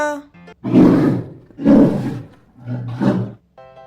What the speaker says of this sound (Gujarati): બિયર એટલે રીંછ